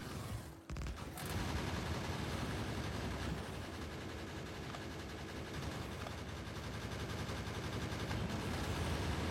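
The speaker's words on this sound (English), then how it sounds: "that sounds insane when they're all shooting" Many guns in a video game open fire together on a biter base, a dense, continuous rattling fusillade that starts after a brief pause and then roars on loudly without letup.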